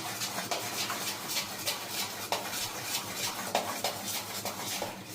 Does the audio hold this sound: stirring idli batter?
yes